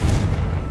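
An explosive Confringo spell going off in the Hogwarts Legacy video game: a single heavy, booming blast with a deep low rumble, loud and close, filling the whole short moment.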